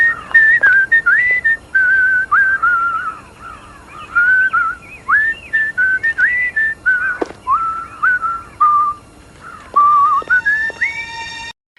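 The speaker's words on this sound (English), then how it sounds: "whistling Camptown Races." Someone whistles a lively tune alone, bright warbling phrases in short bursts with brief pauses between them, close and clear.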